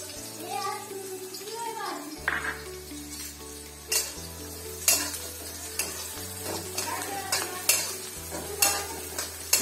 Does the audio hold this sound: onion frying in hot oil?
yes